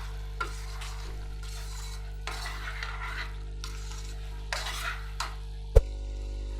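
Goat liver roasting in a pan for kaleji masala, with soft sizzling and repeated spoon stirring strokes against the pan, a sharp clink near the end, over a steady low hum.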